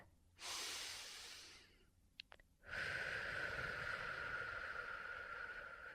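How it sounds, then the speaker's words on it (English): A slow, deep inhale followed by a long, steady exhale, both close and soft, with a brief pause between them. "And then you take another deep breath."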